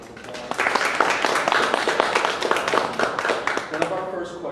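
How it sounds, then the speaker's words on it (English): Audience applause at a university forum on voting rights, a steady burst of clapping that swells and fades gradually. "Can we all give them a round of applause?"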